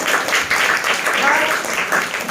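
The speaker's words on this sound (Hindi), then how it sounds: "तालियां बजा दो इसके लिए।" Children in a village primary school classroom clap together, a brief, steady patter of applause heard close and moderately loud.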